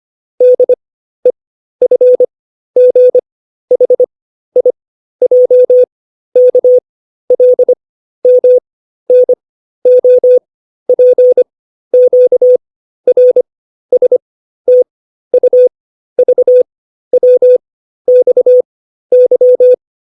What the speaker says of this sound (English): So here's the Morse again.